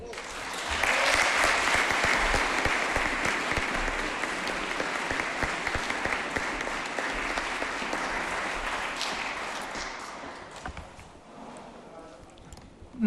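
An audience applauds a mayor at a French civic gathering, a dense, sustained clapping that carries steadily for about ten seconds before thinning out and fading toward the end.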